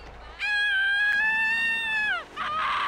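A shrill, sustained scream in Grand Theft Auto: San Andreas rises sharply, holds for nearly two seconds and then breaks off, with a noisy burst following it.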